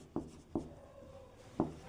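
Pen strokes on paper during a handwritten maths lesson on surface area and volume: a few soft, separate scratches and taps spaced across a quiet background, faint and close.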